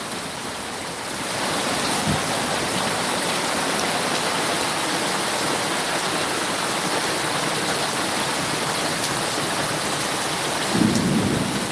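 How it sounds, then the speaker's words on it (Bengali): Steady rain pours down over a village, a dense even hiss that fills the whole stretch, with a faint low rumble near the end. "বৃষ্টি এখন হচ্ছে"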